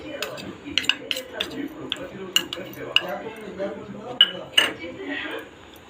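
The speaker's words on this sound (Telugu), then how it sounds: "ఉండలు లేకోకుండా మిక్స్ చేసుకోవాలండి" A spoon clinks and scrapes against a bowl while cornflour is stirred into milk, irregular sharp metallic taps and swirling scrapes at close range, with some quiet background noise.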